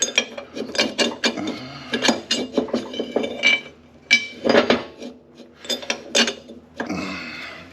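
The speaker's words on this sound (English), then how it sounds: "start putting studs in." Metal wheel studs clink and rattle into a hub with a brake rotor, a quick uneven run of sharp close-up metallic taps and knocks with short gaps between them.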